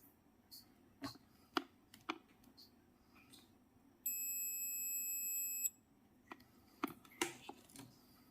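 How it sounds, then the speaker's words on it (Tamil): A capacitor tester checks a good capacitor while an amplifier is being repaired. It gives one long, steady high beep that lasts about a second and a half, with quiet clicks and handling noises before and after it, close by. "நல்ல கெப்பாசிட்டினா இந்த மாதிரி லாங் சவுண்ட் வரணும்"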